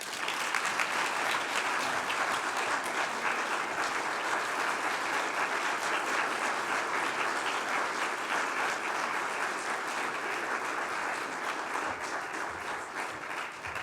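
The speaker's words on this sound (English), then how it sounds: "I'd like to make sure that you give a good round of applause to our future first citizen from Regis, Izak Schmidlkoffer." Sustained, even applause from a large audience at a 2021 chamber of commerce awards ceremony, a thick wash of many hands clapping continuously without pause or talk.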